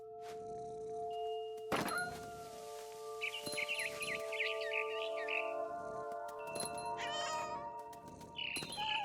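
A cat meows repeatedly in the video game What Remains of Edith Finch, several drawn-out, whiny cries spaced across a quiet ambient background with occasional soft thumps.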